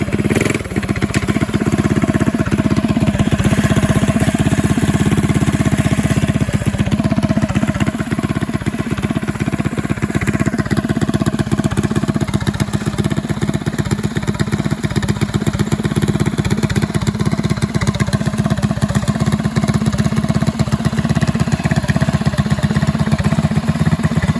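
A Go Power Sports Rascal go-kart with a 228cc engine and EC carb runs continuously, a steady loud small-engine drone with slight rises in revs throughout.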